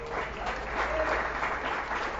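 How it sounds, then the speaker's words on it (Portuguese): A church congregation claps for the Lord during an evening prophetic service, giving a steady, moderately loud wash of many hands that stays even throughout, with a faint low hum underneath. "Você pode aplaudir o Senhor?"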